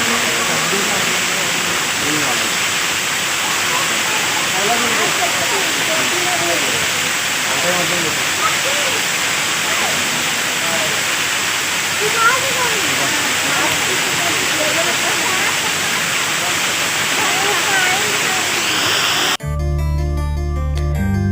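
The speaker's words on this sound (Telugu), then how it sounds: "చూడండి వాటర్ ఫాల్స్ ఎలా ఉందో." A waterfall at Shilparamam in Hyderabad rushes in a steady, loud, dense roar that persists unbroken for about twenty seconds, cut off abruptly just before the end.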